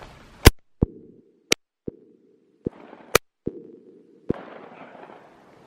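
Shotgun blasts during an Oklahoma duck hunt, several sharp, loud reports spaced irregularly over a few seconds, with a steady hum and outdoor noise between them.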